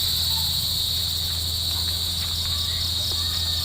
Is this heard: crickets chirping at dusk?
yes